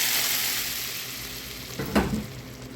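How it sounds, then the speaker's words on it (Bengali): Browned onion and garlic tempering poured into lentil dal cooked with okra sets off a steady close sizzle and hiss, with a brief louder splash of sizzling as the hot oil hits the pot. "এখন বাগারটা ডালের মধ্যে ঢেলে দিব।"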